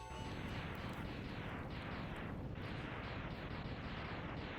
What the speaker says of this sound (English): how the explosion sounds in this game are really muted